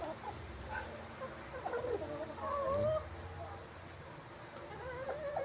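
Organically raised chickens cluck and murmur nearby while eating banana leaves, soft rising and falling calls scattered over a rustling, noisy farmyard background with faint voices.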